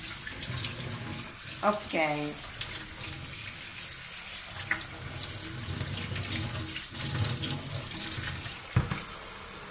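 Tap water runs steadily over drained rice being rinsed in a colander in a kitchen sink, a continuous hiss and splash, with a person speaking briefly.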